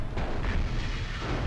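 Artillery fire in the video game Mech Commander Gold: a dense, loud, continuous rumble of booming blasts with heavy low-end, sustained throughout with no clear pauses or speech.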